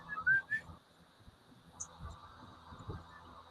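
Two short, high whistles come in quick succession at the very start, then fade into faint room noise with soft thumps.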